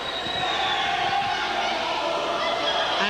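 Basketball crowd in a gym during a high school tournament game, a dense, loud, sustained roar of jeering voices that holds steady throughout with no single speaker standing out.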